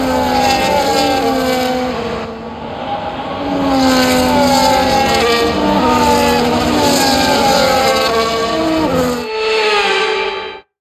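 Formula 1 race cars at Monaco in the F1 25 video game: loud, sustained high-pitched engine whine from several cars rising and falling through gear changes, cutting off abruptly near the end.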